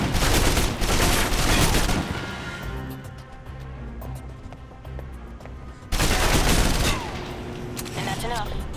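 Rapid bursts of submachine gun fire in the video game Alpha Protocol, loud and dense at the start, fading to quieter background noise, then another heavy volley near the end.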